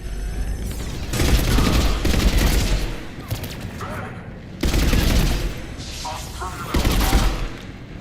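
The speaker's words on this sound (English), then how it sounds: "Commander, we're getting a lot of mortar fire." Mortar fire and battle noise in the video game Mass Effect 3, as Cerberus forces fight an advancing platoon: loud, dense bursts of explosions and gunfire come in two long waves, with voices mixed into the din.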